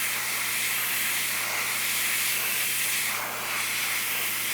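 An airbrush sprays thin dark red paint onto a custom quarter-scale Hellboy figure, giving a steady, close hiss that carries on without a break.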